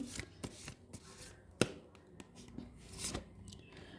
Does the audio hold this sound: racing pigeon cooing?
no